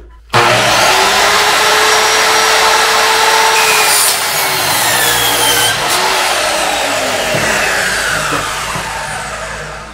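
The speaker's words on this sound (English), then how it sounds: "So use a chop saw and some blocks of wood to give you the perfect cut every time." A chop saw cuts metal shower niche trim braced between wooden blocks, a loud continuous grinding rasp that starts abruptly and holds steady for several seconds before slowly tapering as the blade winds down.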